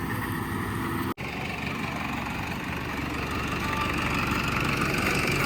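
A steady 90 HP tractor engine idles continuously at a constant pitch, close by, with one brief sharp break near the start and no talk.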